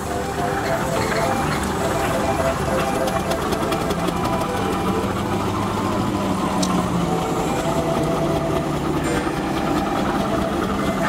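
A steam roller rumbles past at the Whitwell steam rally, its engine chugging and vibrating steadily and loud throughout, with crowd noise and talking mixed in.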